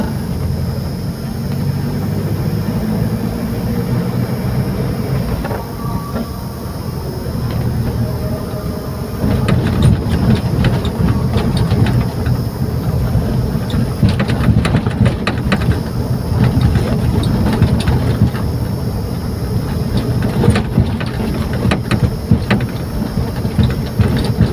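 A motorcycle with a TCI ignition module set to Speed 4 rides slowly, its engine running steadily at low revs, a continuous near rumble throughout with no talking.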